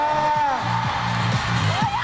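An arena audience at the closing of a world tour concert in Guangzhou whoops and cheers, the crowd noise sitting under an amplified speaking voice and a low rhythmic musical backing.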